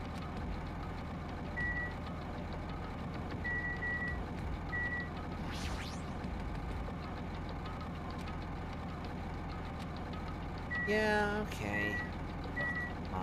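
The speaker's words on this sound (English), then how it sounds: "First thing I noticed was the roaring engine of a nearby truck." A truck in Danganronpa 2 idles with a steady low engine drone under repeated evenly spaced high reversing beeps, while a voice speaks briefly over it.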